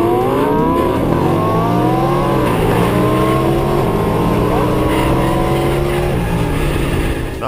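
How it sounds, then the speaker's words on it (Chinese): Six race cars in an Initial D MFG anime race charge toward a mountain-pass corner, engines roaring loud and continuous with rising and falling revs and tyre noise throughout. "六台车的列队冲向死亡区域"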